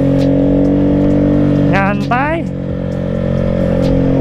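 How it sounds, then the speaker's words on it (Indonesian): Honda Vario 150 scooter cruises along with a steady engine drone under the rider's voice, its throttle tone shifting midway while he talks over it. "Wih, enak banget naik ini Vario nyantai ya"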